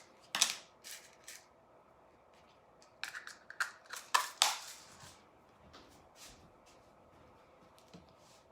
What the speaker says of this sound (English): then we'll cut our little wavy border around it